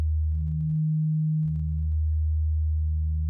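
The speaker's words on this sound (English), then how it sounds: "it is also going to sound like a sine wave, just lower than the first" A low, pure sine tone from a synthesizer oscillator in the Caustic 3 synth app hums steadily and loudly. A brief dip and faint clicks break it near the middle.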